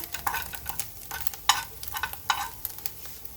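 Small omena fish scraped aside in a frying pan: a series of sharp spatula scrapes and clacks over a quiet background sizzle, close and without talk.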